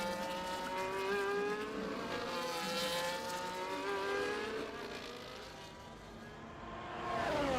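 Aston Martin race car on a hot lap around Imola in a racing sim, its engine note rising and falling through gear changes and swelling again at the end, steady and fairly close.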